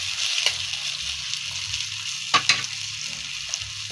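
Ingredients being stir-fried in a hot pan until toasted: steady crackling sizzle with a few sharp scrape-and-clatter accents from stirring, close and continuous.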